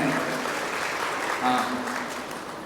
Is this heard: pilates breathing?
no